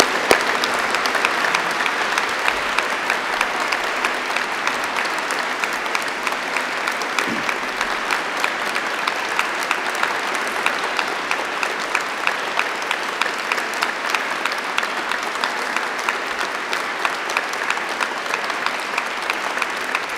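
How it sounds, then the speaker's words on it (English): A large audience at a university degree ceremony in Ely gives graduates a sustained, even round of congratulatory applause, dense clapping filling the room steadily for the full stretch without a pause. "give them one further round of congratulatory applause"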